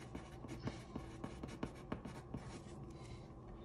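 A pencil writes a label across paper in a string of quick scratchy strokes and taps, close and quiet, with no voices.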